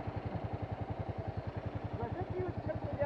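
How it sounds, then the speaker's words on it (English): Motorcycle engine thumping steadily during a ride on a hill road, a close, rhythmic low-pitched pulse underneath faint talking. "That's the beauty of riding the motorcycle."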